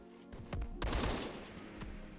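AK rifle fire in Phantom Forces: a few quick, sharp shots in a short burst, fairly faint and close, with the reports trailing off afterward.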